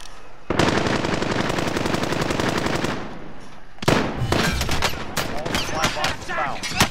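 Loud automatic gunfire in the video game Call of Duty: Modern Warfare, a long continuous burst followed by a brief pause and then a series of rapid shots and shorter bursts, close and dominant throughout.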